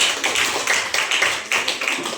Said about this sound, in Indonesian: Oke, tepuk tangan dulu ke kalian.